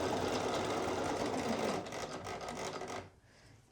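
A domestic sewing machine runs continuously at a steady, fairly loud pace, stitching a hoodie seam with a 3.0 mm stitch length, then slows and stops near the end.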